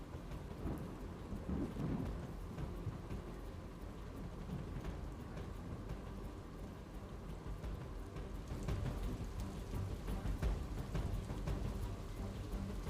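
Heavy rain pours steadily during a thunderstorm over villages in Devbhumi Dwarka such as Kalyanpur and Bhatiya, with deep rumbling thunder rolling underneath and the downpour swelling louder in the last few seconds.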